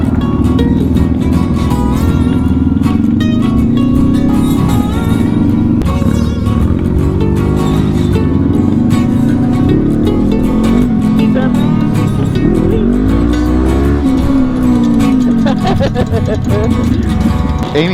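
A Honda CB500X motorcycle with new exhaust, tires, wheels, brakes and suspension rides along, its engine droning loudly and steadily with shifting pitch as it speeds up and slows. Wind noise runs under the engine throughout.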